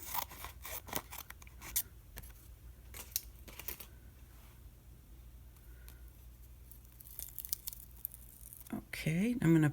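Scissors snip a square out of a craft sheet in a series of quick, crisp cuts, clustered in short bursts near the microphone, with paper rustling and someone talking in between.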